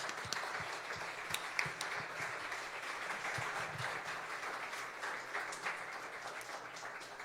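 Church congregation clapping hands in praise, a steady wash of many hands sustained throughout at moderate distance, with a few louder individual claps standing out.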